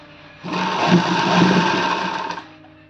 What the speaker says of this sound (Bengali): একটা করে কিন্তু আমি সেলাই করব এইভাবে সমস্তটা সেলাই করে নেব